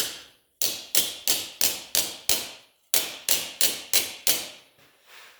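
Repeated metal hammer blows on a rusty wheel arch panel laid over a crown, about eleven sharp ringing strikes in two steady bursts with a brief pause between, close and loud.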